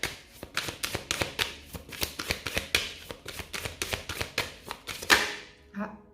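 A deck of tarot cards being cut and shuffled, making a quick run of crisp, evenly spaced card flicks and riffles close by, ending with a brief softer shuffle.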